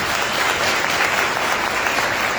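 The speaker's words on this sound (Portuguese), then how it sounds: "Uma salva de palmas nessas nossas irmãs." An audience applauds at a church festival for Saint Anthony, a full, even roll of clapping from many hands that holds steady throughout.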